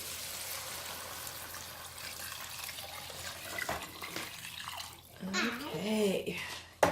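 Homemade broth pours into a pot of keto sausage kale soup, a steady liquid splash and trickle that continues beneath a child's and adult's voices in a home kitchen.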